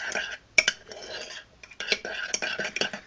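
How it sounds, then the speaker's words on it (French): Two shampoos being mixed slowly in a bowl, giving irregular clinks and scraping taps of a utensil against the bowl in short bursts, close and fairly quiet. "je viens mélanger les deux shampoings sans aller trop vite"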